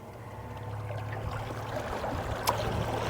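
An ePropulsion Spirit 1.0 electric outboard motor on a small boat throttles up to full power, a low steady hum rising gradually beneath the wash of moving water, with a brief click near the end.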